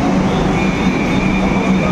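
Loud continuous rumble of a train at Rabindra Sarobar metro station in Kolkata, steady mechanical noise with a faint high whine.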